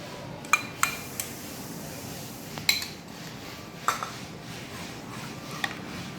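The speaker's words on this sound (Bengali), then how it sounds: "তারপর এই দইটাও এর মধ্যে মিশিয়ে দেবো।" Yogurt is stirred into a bowl for mishti doi, with a spoon clinking against the dish in scattered sharp taps over a quiet background and no talk.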